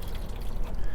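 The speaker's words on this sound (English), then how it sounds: "Just pop that pressure relief valve, get that water to flow on out." Water pours in a steady broadband rush from the pressure relief valve of a 2021 Wildwood 42FLDL RV during winterizing, close and continuous with no talking.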